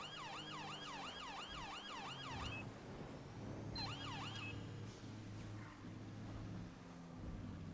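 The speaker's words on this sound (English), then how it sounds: "whenever you put sirens on, they always seem to panic more than just blue lights." Police car siren in GTA V roleplay, a wailing electronic siren sweeping up and down repeatedly for a few seconds, cutting off, then briefly resuming, over a steady low engine drone in the game.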